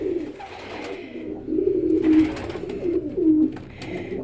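Pigeons coo softly and repeatedly in their indoor nest boxes, low rolling calls overlapping at close range with no talking.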